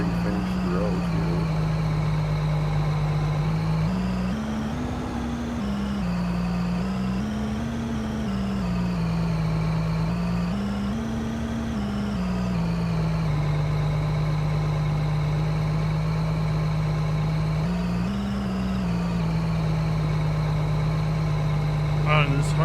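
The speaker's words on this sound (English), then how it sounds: "the engine sounds a little different on that one" A harvester engine idles in Farming Simulator 22 as a loud, steady low drone whose pitch wobbles gently up and down in slow waves, with voices talking over it.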